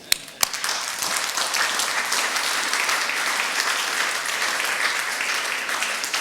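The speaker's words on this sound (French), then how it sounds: "Vous pouvez les applaudir." An audience at a tribute gathering bursts into sustained applause, a few sharp early claps swelling into a dense, even roar of clapping that carries on steadily with no talk over it.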